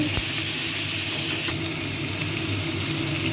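Cauliflower frying in hot oil for fried cauliflower, a continuous loud hiss and sizzle that drops slightly in intensity after a sharp tap about midway, with no talk.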